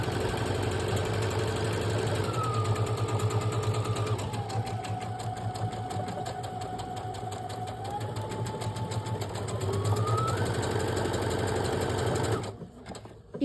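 A sewing machine stitches a buttonhole, its needle hammering in a fast, steady drone with a motor whine that dips and rises in pitch, loud and close, running alone until it stops near the end.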